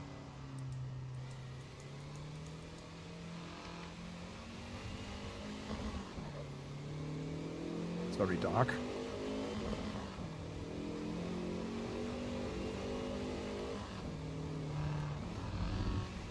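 In the racing game Assetto Corsa EVO, a turbocharged car's engine drones and revs through gear shifts, and a brief turbo whoosh rises mid-run. The steady engine note dominates, with one short spoken remark.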